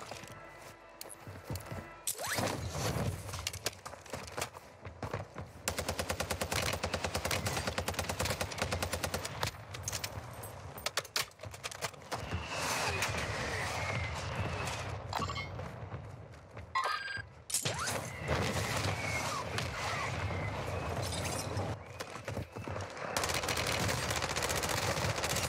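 Grenade launcher and rapid automatic gunfire in a video game shooter, dense loud bursts of shots and blasts nearly nonstop with brief pauses, no one speaking.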